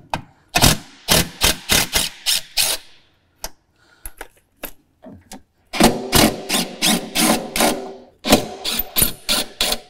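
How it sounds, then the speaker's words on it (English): A portable impact driver fitted with a Torx T40 bit takes screws out of a John Deere XUV 835R Gator panel. It fires in several loud bursts of rapid hammering clicks, separated by short pauses and a few isolated knocks. "to remove these, we're going to need a Torx head T40. And I've got this here on my portable impact."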